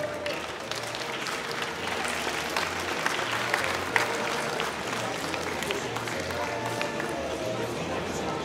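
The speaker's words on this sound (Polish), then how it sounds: "Brawa również oczywiście dla naszych samorządowców" Steady crowd applause for local government officials at a charity football match between celebrities and the Złotów council team, a dense continuous wash of many hands clapping with a loudspeaker voice talking over it.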